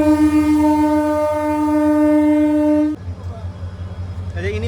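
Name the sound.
local passenger train locomotive running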